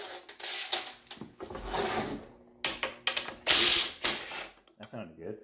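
A 3/8 socket ratchet removing the front cover bolts of a Briggs and Stratton flathead go-kart engine, sharp clicking bursts in quick rhythmic runs, close and loud, with some handling clatter between.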